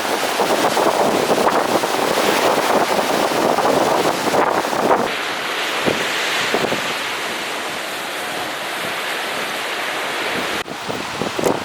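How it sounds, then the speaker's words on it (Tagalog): Strong surf crashes at a beach in Agno, Pangasinan, a loud continuous roar of breaking waves mixed with gusty wind buffeting the microphone, easing slightly partway through, with no voices. "Hindi tayo makakapunta dahil sobrang lakas ng alon."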